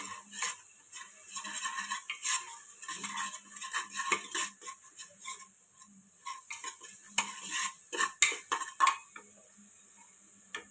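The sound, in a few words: stirring spice mixture in a pan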